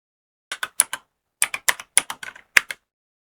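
Quick clusters of computer keyboard keystrokes, close and crisp, entering a column name in data-processing software, with a short pause between two bursts of typing and no voices.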